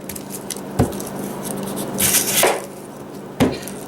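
A knife chopping an onion on a board, with a few separate thuds spaced apart and a brief scraping rustle between them, close and fairly loud.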